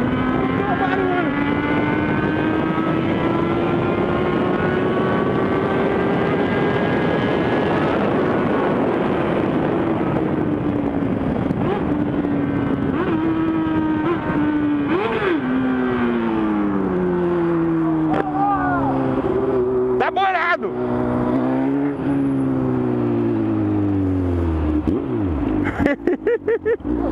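A Honda Hornet motorcycle engine revs through its exhaust, the pitch rising and falling in repeated swells, loud and close, with a few sharp blips near the end.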